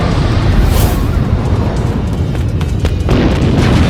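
A punch in an animated drama explodes, giving a dense, loud rumbling boom that fills the whole moment and is heard up close without speech.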